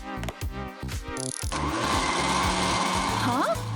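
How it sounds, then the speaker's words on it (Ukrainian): A blender whirs loudly and continuously after a burst of speech, its steady motor whine filling the rest of the moment. "Для цього мені потрібен блендер."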